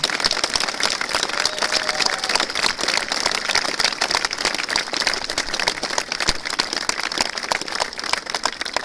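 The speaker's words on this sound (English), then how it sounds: "A big round of applause for them." Steady, dense applause from a crowd at a football ground statue unveiling at Prenton Park, honoring the new chairman and his wife, sustained and even throughout with no talk over it.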